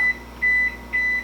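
A kitchen timer beeps three times in a steady, even rhythm, each tone clear and close, with nothing else sounding.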